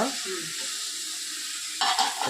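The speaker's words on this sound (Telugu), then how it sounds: "కొంచెం వాటర్ పోస్తా" Water splashes into a pan of mutton curry cooking with chilli powder, setting off a sudden loud hiss and bubbling after a steady frying sizzle.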